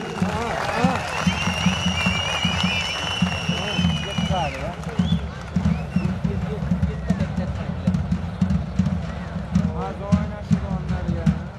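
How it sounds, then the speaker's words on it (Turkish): A crowd at the Korkuteli oil wrestling arena applauds the head wrestlers who fought the final, a dense steady wash of clapping blended with ongoing chatter and an announcer's voice throughout. "Korkuteli Er Meydanı'nda final müsabakası yapan baş pehlivanlarımıza şöyle kocaman alkış isterim"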